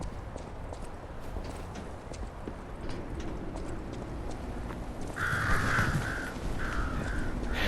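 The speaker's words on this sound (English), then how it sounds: "those birds flying just completely freaked me out" Crows caw and flap in a sudden burst partway through, loud over a steady ambient bed with footstep-like clip-clop in the video game Lies of P.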